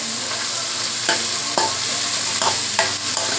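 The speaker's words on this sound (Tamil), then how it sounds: "இப்போ வெங்காயத்து கூட இது சேர்த்து இது நல்லா வதக்கலாம்" Broad beans and onions sizzle steadily in a hot pan while a utensil stirs and scrapes at intervals, with no talking.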